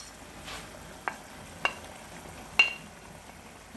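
Butter sizzles softly in a frying pot as a low, steady hiss, broken by three sharp utensil clinks against the pot, close by with no voices.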